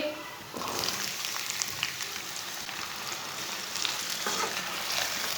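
Taro root frying with browned onions in a pan, a steady crackling sizzle that swells after the first half second and continues evenly, with light stirring scrapes, moderately quiet and close.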